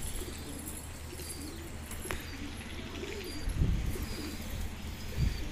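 Selected pigeons, including black desi and silver chandna birds, coo softly in a Karachi loft, with a couple of low throaty coos rising over steady background hum and faint distant noise.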